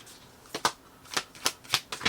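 Tarot cards being shuffled close by, a run of crisp riffling snaps in a quick, uneven rhythm, with no talking.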